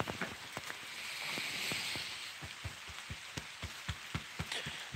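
Rain begins falling outdoors beside a campfire, a steady patter of drops on surfaces with scattered sharper taps and a soft hiss throughout, fairly close and moderately loud, with no one talking.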